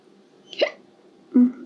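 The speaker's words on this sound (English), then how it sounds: "Not the hiccups, lordy." Two close, distinct hiccups from a person, about three-quarters of a second apart, the second louder with a short voiced tail, in an otherwise quiet room.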